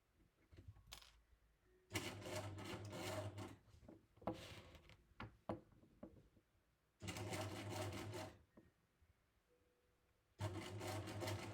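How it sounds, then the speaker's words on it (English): A sewing machine stitches a stand collar in three separate bursts of steady whirring at close range, with quieter handling of the fabric between the runs. "I'm going to stitch on the collar side so that I can see where I'm stitching."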